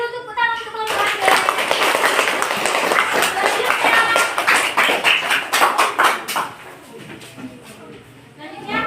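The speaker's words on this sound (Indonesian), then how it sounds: "Kasih dulu tepuk tangan untuk kelompok." A primary school class claps for a group of classmates, a burst of brisk, fairly close applause from many small hands lasting several seconds before tapering off, with children's voices mixed in.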